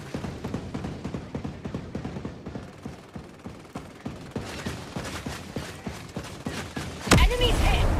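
Steady single gunshots from Ghost Recon Breakpoint crack at a regular rhythm over a mechanical, creaking background, ending in a louder burst of noise near the close.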